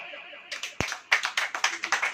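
A congregation claps during a Hindi sermon: a few scattered claps, one sharp slap, then a run of roughly regular, fairly close handclaps building into a loose rhythm.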